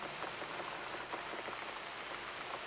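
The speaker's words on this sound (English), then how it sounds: "Looks like we got the rain back." Rain falling in the horror game The Cat Lady, a soft, steady hiss of drops pattering on a surface, faint and continuous with no talk.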